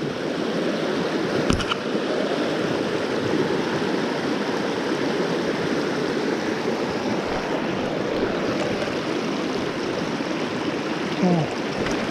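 A small waterfall on a mountain stream in Iwate rushes steadily and close by, a continuous broadband roar of falling water that holds unbroken throughout.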